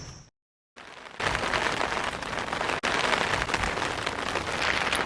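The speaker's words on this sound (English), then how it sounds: "It is raining just a little bit this morning, so we're hanging out in the tent until that stops." Light rain pattering on a camping tent in the Everglades in the morning, a dense, even patter close overhead that drops out briefly near the start and then resumes steadily.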